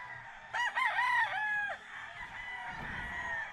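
At a chicken farm, a rooster crows loudly nearby with a drawn-out, wavering call, while hens cluck softly in the background.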